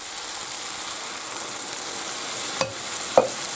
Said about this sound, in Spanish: ahora echamos el vino